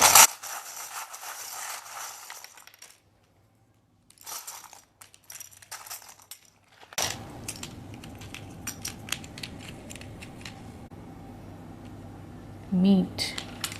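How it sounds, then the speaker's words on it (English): Tarot cards shuffled by hand during a pick-a-card reading: a few seconds of brisk, close rustling and rubbing, a pause, then quieter handling noise with a short burst near the end. "I will shuffle your letters."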